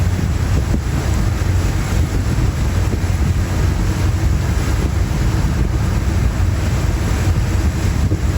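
A faulty boat engine drones steadily and roughly under constant wind buffeting on the microphone, loud and close throughout.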